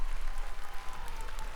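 Applause from an audience of about 3000 people in a concert hall: a dense, continuous wash of clapping, fairly steady and diffuse, heard at a distance.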